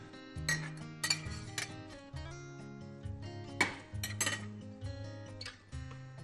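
Ingredients going into a soup pot of chicken broth on a cooking show: sharp metallic clinks and knocks of utensils against the pot come in irregular bursts, fairly close, over steady background music.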